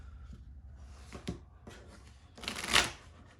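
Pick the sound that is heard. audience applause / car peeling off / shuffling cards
shuffling cards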